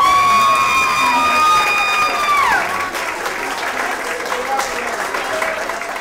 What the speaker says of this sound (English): Please stand and clap.